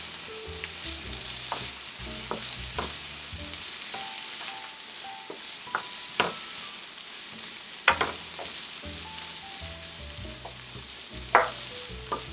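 Half-golden onions and garlic sizzle steadily in a pan, with a spoon scraping and knocking against the metal at irregular intervals, close up and without talk.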